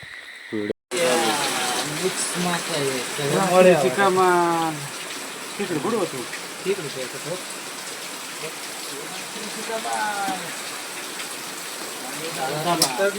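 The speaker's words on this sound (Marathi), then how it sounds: "पाणी लय चालू आहे." Steady rushing water runs throughout, at night, with a person talking over it for the first few seconds and occasional voices later.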